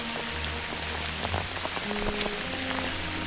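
Hail patters steadily onto surfaces outdoors during March showers at a trout-fishing season opening, a dense crackling rattle with sharper individual ticks, continuous and fairly loud throughout.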